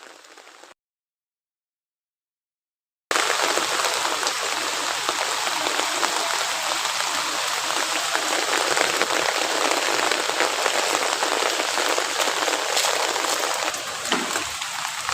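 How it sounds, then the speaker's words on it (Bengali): Rain falls steadily on a street in a continuous, dense patter. It starts after a brief silent gap and then runs evenly and fairly loud, with no voices. "বৃষ্টি পড়তেই আছে"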